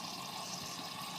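Bubbling water from the pump outlet of a home aquaponics system, a faint, continuous gurgling hiss with a soft, even texture and no talk over it.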